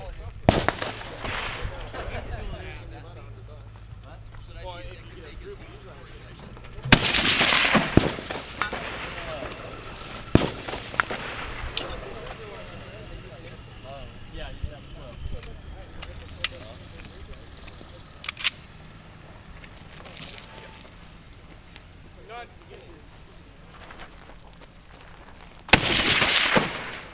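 Rifle shots at a practical rifle match ring out as a few sharp, loud cracks spaced several seconds apart, with low background murmur and scattered clatter in between.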